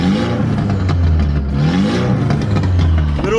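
A car with a solid transmission mount idles steadily just after starting, a low, even engine hum with some clatter and brief revving rises, loud and close, with no talk.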